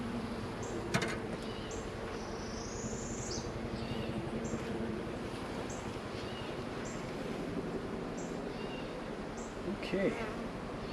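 Honey bees in an open hive hum as a steady, dense buzz close by, with a soft knock early on and faint bird calls in the background, no speech.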